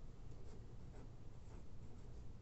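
Handwriting on paper gives a soft, faint, continuous scratching of pen strokes, quiet and close, with no speech.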